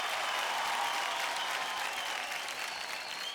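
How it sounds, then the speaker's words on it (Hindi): Sustained applause from a television talent show audience, a dense, steady wash of many hands clapping throughout, loud and even with no talk over it. "जोरदार तालियां हो जाए।"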